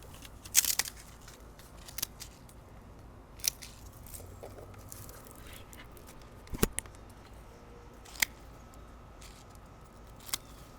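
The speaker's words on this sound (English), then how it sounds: "I'm actually going to take some cuttings with me." Scissors snip cuttings from a lemon balm plant in a Florida garden, a series of sharp, isolated clicks a second or two apart over a quiet outdoor background.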